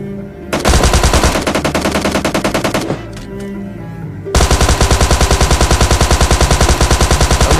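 Rapid automatic gunfire from a battle royale-style video game, with loud sustained bursts, a short pause around the middle, then a longer unbroken volley, close and dominant with no talking.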